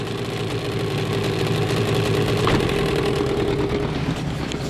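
Gladiator 9.8 outboard motor on a boat pushing along on the water, a steady, loud, unbroken drone held close and alone for the whole stretch.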